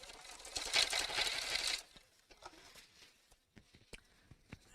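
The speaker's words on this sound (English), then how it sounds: "And then slowly as you sew across it." A sewing machine stitching slowly across the foam-lined seam of a simple evening bag, running in a close, steady burst before stopping, followed by scattered faint taps and handling clicks.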